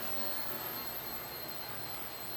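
A Blade 70S radio-controlled helicopter hovers indoors, its rotors and motor giving a faint, steady, even whine with no talk.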